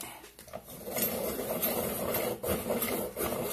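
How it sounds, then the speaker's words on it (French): A pencil sharpener grinds a coloring pencil, giving a continuous close raspy whir with brief dips and pauses as the pencil turns. "je crois que je vais d'abord tailler mon crayon avant"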